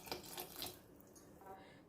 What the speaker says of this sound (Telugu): ఇంకొద్దిగా వాటర్ వేద్దాము.